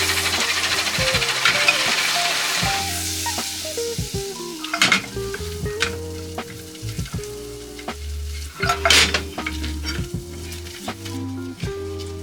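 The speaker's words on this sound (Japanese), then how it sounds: "溶かしたところに、薄力粉入れちゃってください。 で、炒めていきます。" A steady sizzle of butter and flour frying in a pot, with a heat-resistant rubber spatula scraping and tapping against the pot as it is stirred.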